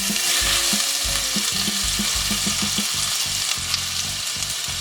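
Onions and a ginger-green chilli paste with hing frying in a pan, stirred with quick rhythmic scrapes and knocks over a steady, close, loud sizzle.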